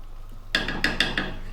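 Hard vegetables for a vegetable crumble tumble into a hot pan with a few sharp clattering knocks and rattles, followed by a steady close sizzle.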